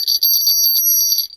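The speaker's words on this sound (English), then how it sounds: "This is actually an authentic sleigh bell." An authentic brass sleigh bell shaken briefly, a bright continuous jingling with fast rattling pulses and a clear high ring, loud and alone.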